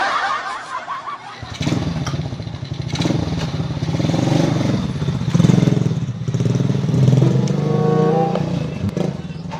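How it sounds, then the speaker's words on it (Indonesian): A motorcycle engine rumbles up close and keeps running at steady idle, with clatter and bursts of laughter and chatter from people around it. "Ih, motor datang euy."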